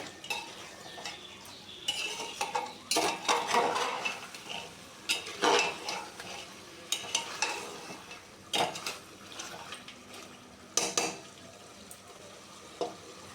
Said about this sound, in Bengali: ভালো মতো কষিয়ে নিতে হবে যদিও আমরা এখনো জল দিইনি মাংস থেকে জল বেরিয়ে এসেছে